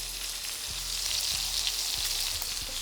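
Steak sizzles steadily in a hot pan with thyme, a loud continuous frying hiss with a few soft crackles and pops throughout, no voices.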